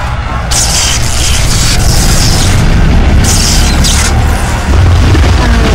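An energy blast explodes in the Marvel Ultimate Alliance video game: a dense, loud, continuous roar of blast noise with booming low rumble that fills the whole stretch.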